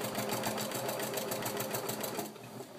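A sewing machine runs steadily, stitching straight lines on a quilt in a rapid even rhythm that is close and clear for most of the stretch, then eases off near the end.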